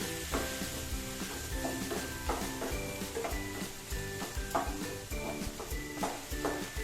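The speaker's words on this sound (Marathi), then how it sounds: "कांदा आपल्याला सोनेरी होईपर्यंत छान परतून घ्यायचा आहे" Three finely chopped onions sauté with a bay leaf in a pan over medium heat while making a dhaba-style mixed vegetable dish. They sizzle steadily at close range, with a spoon stirring and scraping in irregular strokes and no talking.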